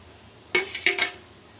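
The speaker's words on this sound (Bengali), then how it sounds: "ভালো করে মিক্স করব।" Ingredients, including two bananas, being mixed in a bowl, giving a few short clinks and scrapes of utensil against the bowl, close and fairly quiet, with no talking.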